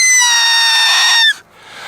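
A blade of grass stretched tight between the thumbs whistles as a loud, shrill, steady tone lasting just over a second, cut off abruptly, with no talking.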